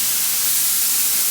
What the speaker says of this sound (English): Can you hear that sear?